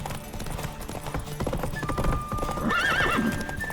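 A horse gallops in the video game The Witcher 3, its hooves clip-clopping in a quick rhythm. Near the end a clear whinny rises over the hoofbeats, with no talk.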